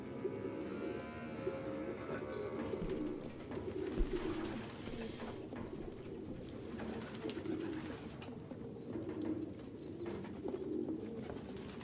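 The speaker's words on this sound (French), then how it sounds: "Aucun humain ne pourrait vivre avec autant de pigeons." Pigeons cooing in a room in the video game Detroit: Become Human, a low, soft, continuous murmur of many overlapping coos with a faint background hum, fairly quiet and without speech.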